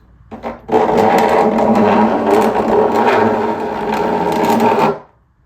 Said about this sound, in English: This is a much coarser file. I'll start with these. It makes a horrible noise.